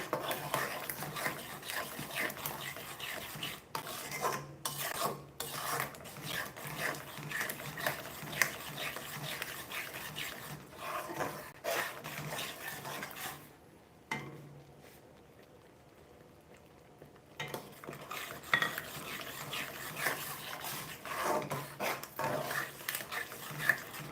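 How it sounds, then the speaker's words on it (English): Shahi paneer butter masala being stirred in a pan, with a spoon scraping and clacking against the metal in an irregular rhythm over a thick sauce, close and steady, pausing briefly near the middle. "Stir it really well."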